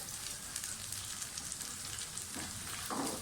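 Green chillies sauteing in hot oil in a pan for a boneless chicken curry, giving a steady close sizzle and crackle throughout, with no talking.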